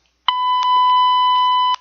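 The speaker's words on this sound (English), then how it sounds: "that beeping sound, I thought that was funny, so I added it in" A steady electronic alarm-clock style beep holds one tone for about a second and a half, loud and clean, with no other sound around it.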